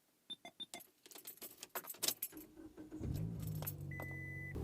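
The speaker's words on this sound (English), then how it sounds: "you just go ahead and turn on your car" A car's keys jangle and click in the ignition, then the engine cranks and settles into a steady low idle, with a faint chime tone sounding briefly near the end; close and fairly quiet.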